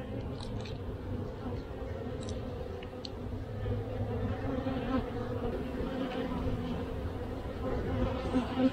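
Honey bees buzz steadily and densely during a hive inspection, a continuous close drone with a few faint clicks on top.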